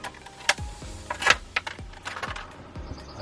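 Crinkly plastic packaging being handled while a large paddle-tail fishing lure is unboxed, with a series of sharp clicks and rustles at irregular intervals, close and fairly quiet.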